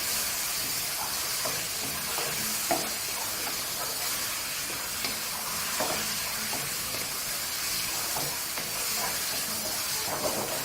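Minced meat keema sizzles steadily in a pan, a continuous bright hiss with faint scraping from mixing, even and close throughout.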